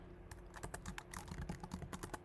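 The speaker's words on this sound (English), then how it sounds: "God, I'm typing awful today." Fingers tap quickly on a computer keyboard during a coding session, an irregular run of close, crisp keystrokes at low volume.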